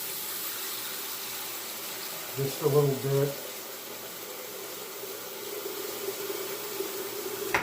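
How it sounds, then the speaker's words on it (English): Hot water runs from a bathroom tap during a wet shave, a steady rushing hiss that continues throughout, briefly joined by someone speaking. "I'm going to run a little hot water here."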